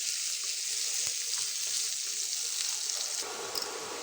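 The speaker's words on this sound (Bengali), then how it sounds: "পেঁয়াজটা ব্রাউন কালার করে ভেজে নেব।" Chopped large onion frying in a pan until brown makes a dense, steady hiss that carries without a break, with small pops and stirring scrapes and a soft clink near the end, close and with no talking.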